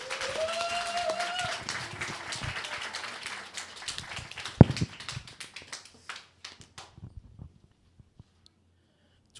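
Congregation applause during a Sunday church service, starting as a dense burst of clapping that thins into scattered individual claps and fades to silence over several seconds.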